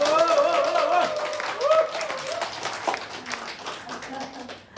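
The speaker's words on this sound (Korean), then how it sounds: "큰 박수 보내주시기 바랍니다" Applause from a crowd at a Liberty Korea Party rally in Seoul, steady clapping throughout with voices and cheering mixed in, loud and continuous before gradually easing.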